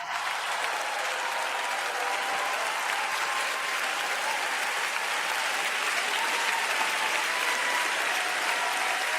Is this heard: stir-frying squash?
no